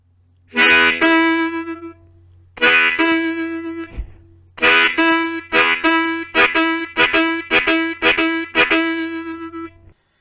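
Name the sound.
harmonica draw chord on holes 1-3 switching to 2 draw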